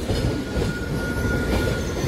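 Loud, steady rumble of the Madgaon–Sawantwadi–Diva Express passing outside Apta station on the Konkan Railway, dense low roar with rail noise continuing throughout.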